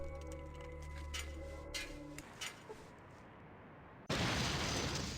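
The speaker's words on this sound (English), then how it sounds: "You made it through the hole just in time for the explosion to go off behind you, sending you flying through the air" In the video game Fallout 2, an explosion goes off with a sudden loud, broad roaring burst near the end, following quieter ticking and mechanical game sounds.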